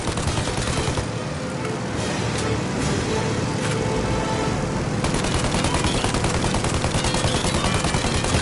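Sustained gunfire in the video game Mafia Definitive Edition, shooting at a plane, forms a dense, loud, continuous rattle of shots throughout, growing sharper and busier in the second half.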